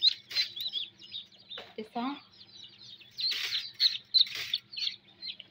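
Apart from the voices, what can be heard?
newly hatched ducklings peeping in an incubator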